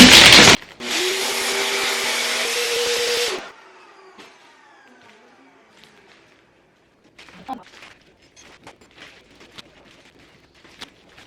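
A vacuum cleaner with its long nozzle removed sucks air from a large 35 kg immigration luggage bag, a loud steady roar lasting about three seconds before cutting off, followed by quiet rustling and handling sounds.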